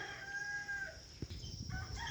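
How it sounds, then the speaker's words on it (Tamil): Birds call outdoors in a vegetable garden, a rooster-like crowing cry and short chirps that stand out clearly over a soft, faint outdoor background. "அந்த குருவியோட சவுண்டு, இந்த பறவையோட சவுண்டெல்லாம் கேட்கக்குள்ள"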